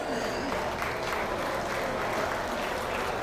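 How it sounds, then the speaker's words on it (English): An audience at a 2022 beef cattle showmanship event applauding two women, a dense, steady roar of many hands clapping at once, sustained throughout without a break. "let's give both these ladies a round of applause"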